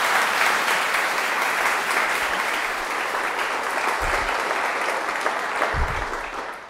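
An audience applauds a speaker being welcomed at a talk on U.S. space policy, with dense, steady clapping that fills the room for several seconds before tapering slightly at the end.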